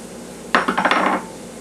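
Drained peas and carrots tumble and clatter into a casserole pan for a cottage pie, a brief burst of close, light knocks and scraping lasting about half a second before it goes quiet again.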